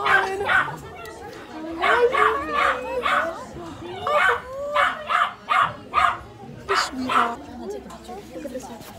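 Puppies yipping and barking in quick bursts, close and lively, with some whimpering between calls, repeated throughout.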